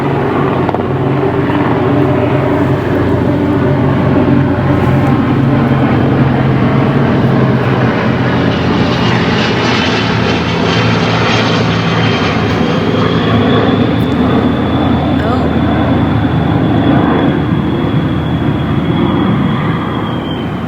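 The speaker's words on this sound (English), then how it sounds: "So we had an Army helicopter and an Army plane." An army helicopter and an army plane fly overhead near an army base, a loud continuous engine roar and rumble that stays strong for about twenty seconds with a rising whine near the end.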